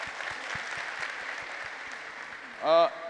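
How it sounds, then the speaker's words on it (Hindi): An audience at a real estate conference applauds with a dense, steady wash of clapping and soft low thumps, ending in a short, loud, rising vocal whoop. "इनके लिए ताली मारिए सब लोग"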